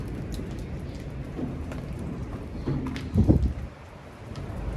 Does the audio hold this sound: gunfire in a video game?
no